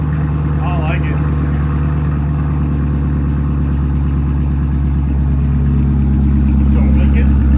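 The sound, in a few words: 2018 Camaro engine running with no mufflers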